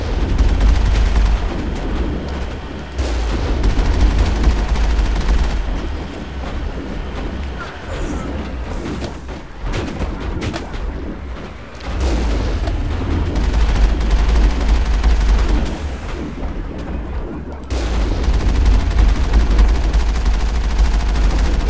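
Gunfire from the video game Mass Effect, fired from the Mako vehicle: rapid bursts of shots with heavy low rumble, loud and continuous across the stretch, broken by a few short lulls.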